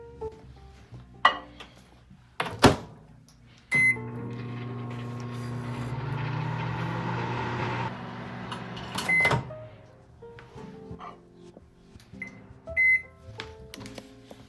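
A dish of butter melts in a microwave oven: a door clunk and beeps, then a steady low hum for a few seconds, an end beep, and the door opening again amid kitchen handling.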